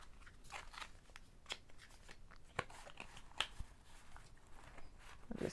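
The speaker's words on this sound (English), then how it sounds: "let me take the cards out of here" Oracle cards by Shaheen Muro being pulled out of their cardboard box, giving soft papery rustles and scattered crisp clicks and snaps across several seconds, close and quiet with no talking.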